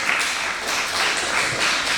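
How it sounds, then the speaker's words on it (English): Continuous applause from an audience at a final ceremony, a fairly loud, even wash of clapping hands without pauses. "Let's give a round of applause"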